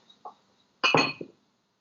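Ice cubes drop into a glass for an iced oat milk drink, a faint tap followed by a brief cluster of bright clinks and rattles close by.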